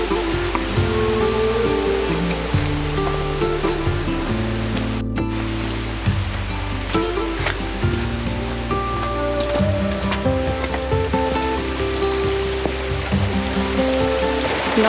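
Steady rushing water pours continuously, a broad watery roar that holds even throughout, like a waterfall in Snowdonia heard from nearby.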